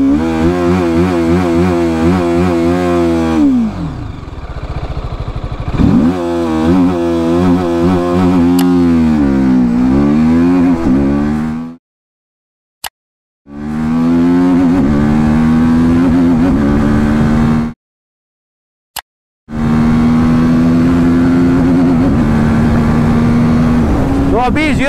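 A TVS Apache RTR 310 motorcycle accelerates hard from a standstill toward 120 km/h, the engine note climbing and dropping with each gear change, loud and close, broken by two brief silent cuts.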